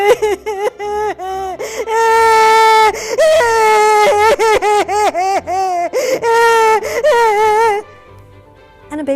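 A woman imitates a crying baby with her voice, producing a run of high, wavering wails and whimpers broken by short gasping pauses, close and loud, before it trails off into quiet.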